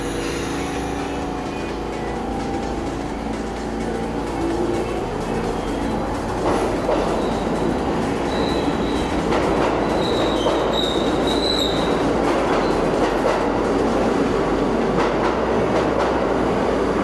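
A New York subway train rumbles past Atlantic Avenue–Barclays Center station, a loud, steady roar of wheels on rail with squeals and metallic screeches rising midway, no voices.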